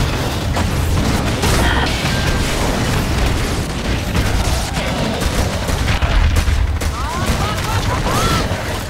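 Shotgun blasts in the sci-fi hunting game Evolve, loud rapid shots mixed with booms, mechanical clanks and a dense, continuous battle din.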